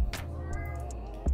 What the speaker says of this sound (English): Nagsasalita guys yung aking cat.